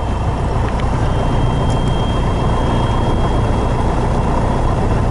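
A Piper Cherokee light airplane's engine idles steadily while warming up, a loud, constant low rumble with no pauses, close to the microphone.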